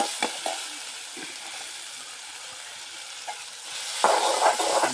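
Chopped tomatoes frying in a pan, with a soft sizzle, a few stirring clicks and scrapes early on, and a louder burst of sizzling as more food hits the hot oil near the end.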